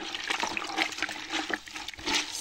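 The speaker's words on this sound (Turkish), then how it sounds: "Şimdi bir güzel karıştırıyorum." Vinegar and water being stirred together, a close, continuous splashing swirl of liquid sloshing in a container for a couple of seconds.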